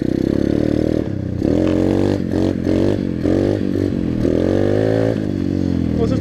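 A 125cc pit bike engine held at full throttle, a loud continuous buzzing drone with rising and dipping harmonics as the revs climb and waver, close to the microphone and alone.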